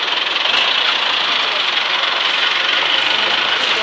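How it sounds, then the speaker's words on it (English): A tractor works nearby clearing snow in a small Russian town, its engine giving a steady, continuous rumbling drone with broadband mechanical noise that holds at an even level throughout, with no talk over it. "Tractor's working."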